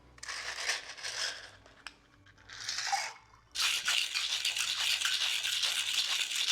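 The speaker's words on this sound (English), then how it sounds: "Let's get some ice and shake this one up." Ice rattles hard inside a cocktail shaker as a cranberry Mai Tai is shaken, several loud crunching bursts separated by brief pauses, then continuous vigorous shaking, with no voices.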